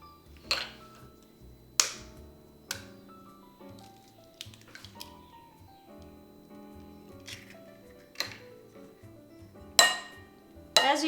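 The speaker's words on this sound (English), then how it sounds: "We start with beating the eggs." Three whole eggs being cracked into a bowl and beaten by hand for French crepes: sharp cracks and taps against the rim at irregular intervals, with soft squishy sounds between, close and fairly quiet.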